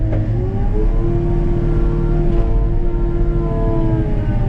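A heavy JCB Teleskid 3TS-8T compact track loader with a 74 hp engine labors loudly and steadily while pushing into a pile, a continuous dense engine drone with a drawn-out strained tone and no talk.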